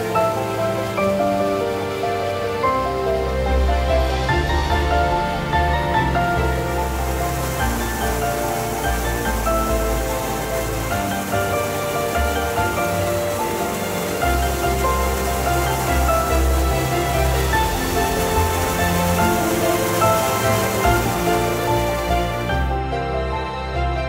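Raggedy Ass Falls waterfall, a steady broadband rush of falling water roaring continuously and loudly at close range with no voices.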